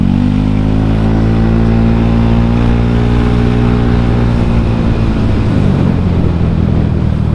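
A Honda Scoopy motor scooter engine revs steadily upward as it accelerates to about 80 km/h, its whine rising in pitch, loud and close, with rushing wind noise behind it.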